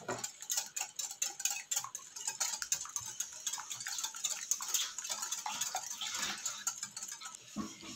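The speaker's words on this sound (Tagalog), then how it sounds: "mix well" Sugar and vanilla essence being mixed into pancake batter in a bowl make a quick run of light clicking and scraping taps, close and fairly soft, with no voices.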